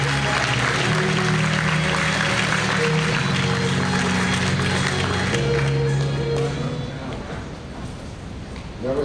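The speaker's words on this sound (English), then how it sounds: "Big round of applause here." Crowd at an outdoor rally against censorship in Conroe gives a big round of applause, loud continuous clapping layered over music that fades after about six seconds, leaving softer clapping.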